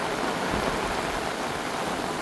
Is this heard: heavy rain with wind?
yes